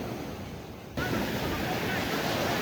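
Ocean waves splash onto a beach in Puerto Vallarta, Mexico, a soft wash that suddenly swells into a louder, rushing surge partway through.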